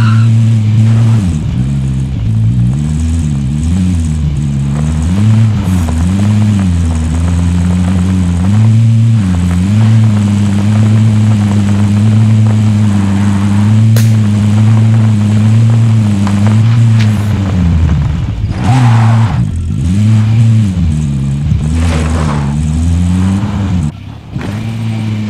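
Car engine driving in the Call of Duty Warzone Pacific video game, a loud steady drone that rises and falls with revving and gear changes for the whole stretch, with faint voices now and then.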